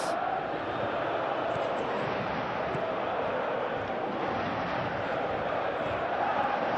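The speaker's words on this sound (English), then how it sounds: "Crowd appreciates good football all round there." Stadium crowd in a PES 2025 football match, a dense continuous roar of thousands of fans rising slightly in places, heard steadily throughout at close range.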